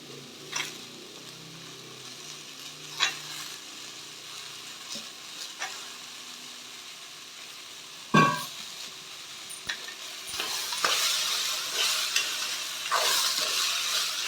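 Potatoes and brinjal fry in a pan, a steady soft sizzle that grows louder toward the end, punctuated by occasional sharp clinks of a stirring spoon against the pan.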